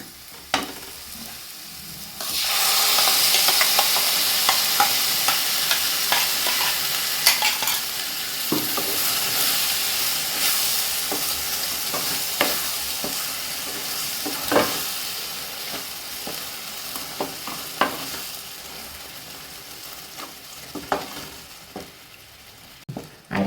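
Ground coconut-and-curd paste for kaalan sautés in a hot pan under a steady sizzle, with frequent scraping and clacking stirs of a spoon, close and fairly quiet, fading slightly toward the end.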